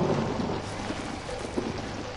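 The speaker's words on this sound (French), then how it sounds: "Wow, l'orage." A thunderstorm in the horror video game Outlast: loud, dense rain hiss with a low rumbling roll of thunder, steady and enveloping, no voices heard.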